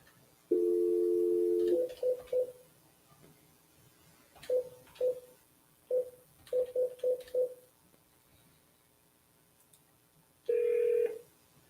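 Telephone tones before a voicemail greeting: a long dial tone, then a quick series of short dialing beeps in uneven clusters, and a final steady tone, clear and alone.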